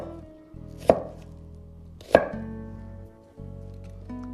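Knife chopping peppers and onions on a board: two sharp, loud, close chops about a second apart, each with a short ringing tail, amid low kitchen background.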